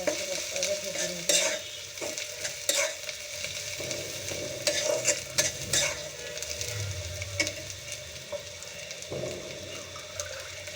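Spices with chili and coriander powder fry with dried fish in a pan as a spoon stirs and scrapes steadily, a continuous close sizzle broken by sharp utensil clinks, with no talking.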